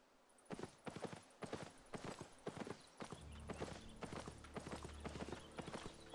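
Horse hooves clip-clopping at a steady trot in the game Albion Online, a regular rhythm of sharp hoof strikes, joined after a few seconds by a low rumbling background hum.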